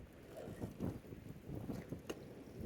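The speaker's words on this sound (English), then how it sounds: "it's so damn windy out" Gusty wind buffets the microphone in low, rumbling bursts, loud and uneven throughout with no voices.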